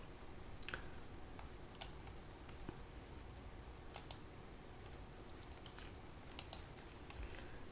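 Calculator keys are pressed in a sparse series of soft, faint plastic clicks over a low background hiss, with irregular gaps between presses.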